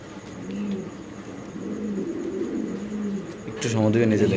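A pigeon held by hand at a Bengali pigeon market coos in soft, repeated low murmurs, with people talking nearby and a brief sharper rustle near the end.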